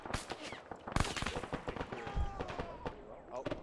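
Gunfire in the military video game Arma 3, several sharp nearby shots and scattered cracks mixed with radio-style chatter and voices talking over them.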